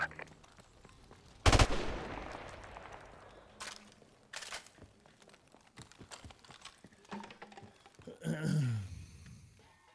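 Automatic gunfire in a bomb-defusal shooter game, one sharp loud burst followed by scattered fainter shots and clicks, with game effects and a low sweeping tone near the end.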